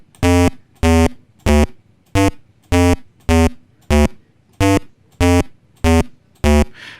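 Simple retro game tone beeping in a steady pulse, eleven evenly spaced beeps over about seven seconds, forming the heartbeat effect for a Space Invaders game; loud, clean and alone with no talk.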